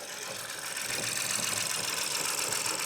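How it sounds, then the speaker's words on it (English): Ford Focus engine idling with a bad misfire, a steady, moderately loud broadband running sound with an uneven, rough texture throughout and no talking. "it has also got a really bad engine misfire"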